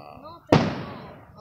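A single firework bursts loudly close by at a neighborhood display in Englewood, New Jersey, a sharp bang followed by a long crackling decay, with people talking before and after.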